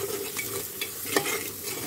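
Salt, turmeric and chili being stirred into a pan of cooking food for Punjabi-style rajma, a steady sizzle under brief scraping strokes of a spoon against the pan, with a few louder clinks, close and alone.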